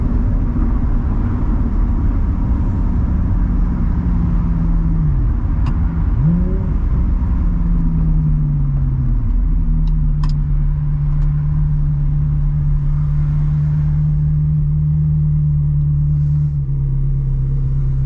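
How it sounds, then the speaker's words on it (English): Car engine with noisy fuel injectors, heard from inside while driving on a highway from Los Angeles to San Diego; a loud, steady low rumble of engine and road noise fills the whole stretch, with a faint tick on top. "Those injectors are noisy in this car. You can hear them."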